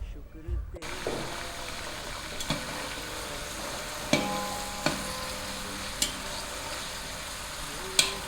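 About half a kilo of onions frying in oil in a pan for degi chana pulao makes a steady crackling sizzle, punctuated by several sharp clinks of a spoon stirring, with a brief low thump near the start.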